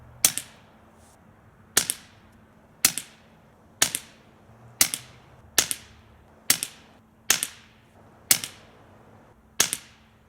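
Nine evenly spaced sharp cracks from a 22LR rifle fitted with a Liberty Infiniti 9mm silencer, each shot a quick snap with a short decaying tail, about one per second, heard near and alone with no voices.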